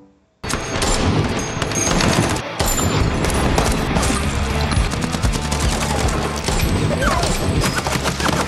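Sustained gunfire from an action-film shootout between mercenaries: dense bursts of automatic fire and sharp individual shots crackle almost continuously and loudly, with crashes mixed in and a brief lull near the start.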